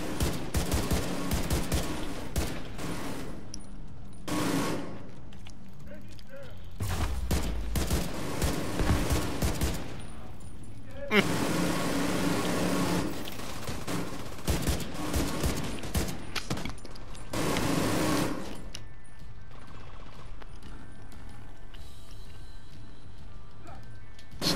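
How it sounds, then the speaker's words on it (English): Repeated bursts of gunfire, including sniper shots, crackle through a firefight in Tom Clancy's The Division 2, loud and dense in several clusters with game noise in between. "Seeing sniper fire."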